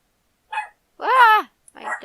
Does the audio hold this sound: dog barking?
yes